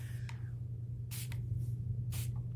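Two short, sharp hisses of a spray bottle misting liquid onto a surface, plus a faint earlier spritz, over a steady low background hum.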